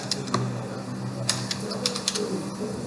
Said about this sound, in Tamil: பாஸ்வேர்டில் நான் க்ரியேட் பண்ணியிருந்த பாஸ்வேர்டை அப்படியே டைப் பண்ணுறேன்